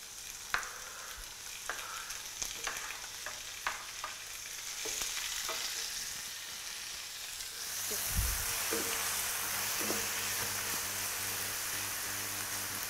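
Tomatoes, onions and garlic fry in a pan with a soft continuous sizzle, a few utensil clinks early on, then the hiss gets louder and denser midway.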